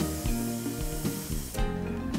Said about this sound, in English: But it is doing a nice fine spray.